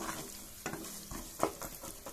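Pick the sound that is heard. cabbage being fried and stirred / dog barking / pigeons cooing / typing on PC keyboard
cabbage being fried and stirred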